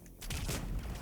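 A loud gunshot rings out in Mass Effect 3, a sudden close blast with a booming tail lasting about a second.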